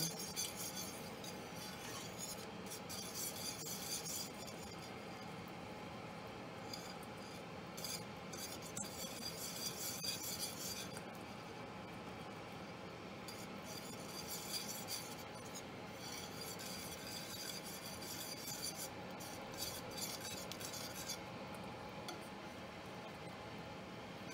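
Mixed cheese stirred into a thick mac and cheese sauce makes quiet, repeated scraping and rubbing strokes, rising and falling in bursts over a long stretch with no voices.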